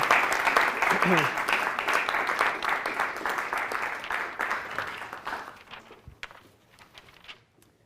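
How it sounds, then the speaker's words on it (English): A second round of audience applause for a panelist at a music theory panel session, steady moderate clapping for about five seconds with some talk mixed in, then tapering to a few scattered claps. "let's give a second round of applause to Lynnsey."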